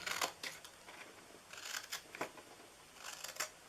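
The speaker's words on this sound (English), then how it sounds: "Cut straight down to that second score mark." Scissors snip through scored paper card while making a flip top treat box, a series of soft, close cuts in uneven bursts with quiet pauses between them.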